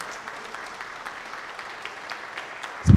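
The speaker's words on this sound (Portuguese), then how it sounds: "Pode aplaudir ao Senhor." A church congregation clapping during an evening service, a faint, steady patter of many hands with a sudden louder thump at the very end.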